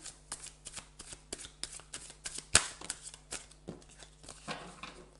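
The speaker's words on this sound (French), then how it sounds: "j'ai deux jeux de Béline. Alors, du coup, c'est pas facile à mélanger." Two decks of Belline cards being shuffled by hand, a series of quick, crisp riffles and taps with one sharper snap near the middle, quiet and close-up.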